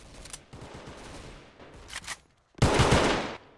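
Pistol fire in a competitive shooter match, with short bursts of rapid, sharp shots, the loudest volley coming near the end.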